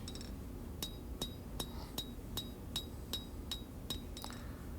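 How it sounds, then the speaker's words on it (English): Hammer forging the bevels into a steel full-tang bowie knife blade: about ten evenly spaced, ringing metallic strikes on the anvil, close and clear over a low steady background hum. "I'm hammering in the bevels"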